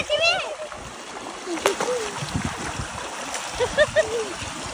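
Children bathe in cold tubewell water on a hot day, splashing and gurgling continuously while their voices chatter and call out over the water.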